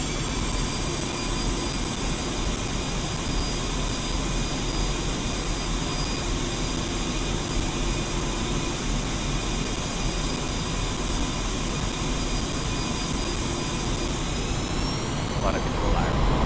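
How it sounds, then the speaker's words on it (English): Jet engines in DCS World run at full takeoff thrust, a loud, steady roar with a high whine that climbs in pitch near the end as the aircraft gathers speed down the runway. "increase thrust of both engines to maximum"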